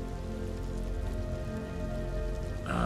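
Steady rain from the World War I video game Valiant Hearts, a dense continuous patter on surfaces holding even and loud throughout, with no voices over it.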